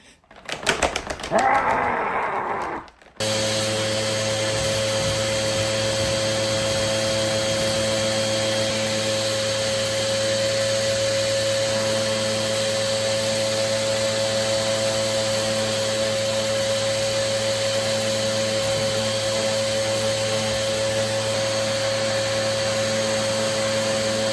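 A Samsung Twin Propel SU3355 1800W vacuum cleaner whirs steadily at close range with a constant high motor whine after a brief start, running alone without talk.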